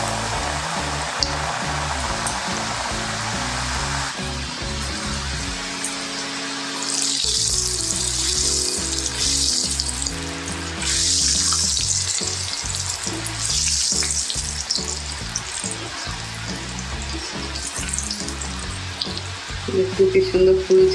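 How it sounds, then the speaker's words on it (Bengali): Nimki, crispy pastry pieces, frying in hot oil, a loud close steady sizzle and bubbling that runs the whole time, with occasional clinks and stirring noises. "তেল গরম হয়ে গেছে, নিমকিগুলো তেলে দিয়ে দিচ্ছি।"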